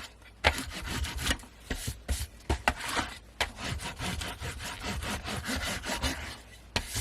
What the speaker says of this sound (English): I'm going to turn this over and I'm going to just burnish it down.